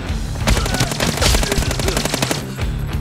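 Rapid automatic gunfire from new weapons in the shooter video game Arena Breakout rattles in long, loud bursts of closely spaced shots, with a short pause near the end.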